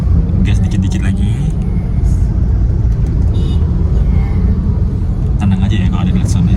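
A Honda Brio driven on a busy road gently speeds up, its steady engine and tyre rumble continuous and close, with people talking over it.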